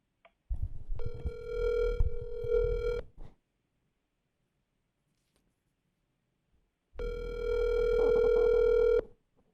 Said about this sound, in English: I will be getting him on the phone line